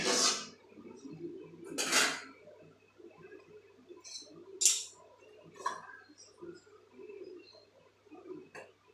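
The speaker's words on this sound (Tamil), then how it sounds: "இப்போ கடாயை அடுப்பில் வச்சுட்டு எண்ணெய் ஊற்றிக்கலாங்க" A metal kadai pan set down on a stove, with a few loud metallic clanks and clinks from cookware followed by softer handling noises in a quiet kitchen while oil goes in.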